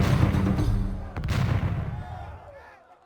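A deep cannon boom rumbles in a video game naval battle, then a second sharp blast follows and fades into a lingering low roar, with faint tonal sounds trailing off.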